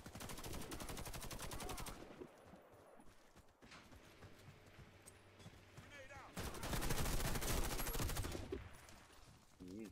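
Gunfire in the shooter game Warface comes in loud bursts of rapid shots that start and stop, separated by quieter stretches of game noise and footsteps.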